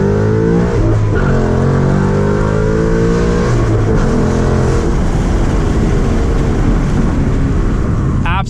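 A 2019 Ford Mustang GT V8 with a Lund flex tune and aftermarket intake accelerates hard through the gears, roaring loudly with rising pitch and a gear change, recorded from inside the car with a voice heard over the engine.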